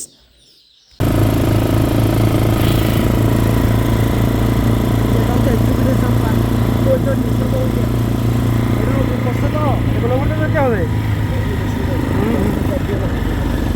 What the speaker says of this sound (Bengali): বালুর উপর দিয়ে বাইক চালানো অন্যরকম